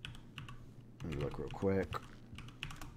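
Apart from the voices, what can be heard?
typing on a computer keyboard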